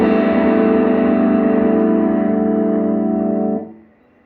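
Electric guitar fed through a modified OCD overdrive pedal with FET-boosted input into a Laney amp, gain raised: a loud, sustained distorted chord rings for about three and a half seconds, then is cut off and fades quickly.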